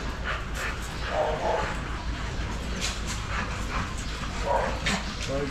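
Dogs in a breeding kennel, with Corgis among them, bark and yip in short bursts through steady background noise and low voices.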